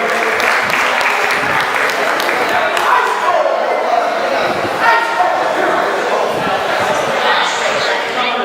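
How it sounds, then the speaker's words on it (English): Audience applause at a live show, a steady wash of clapping and crowd noise that carries loud through the whole stretch, with a few cheers and voices rising out of it. "Give yourselves a round of applause. Put your hands together."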